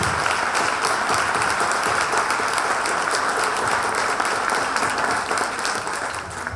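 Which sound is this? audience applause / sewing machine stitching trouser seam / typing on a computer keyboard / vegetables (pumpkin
audience applause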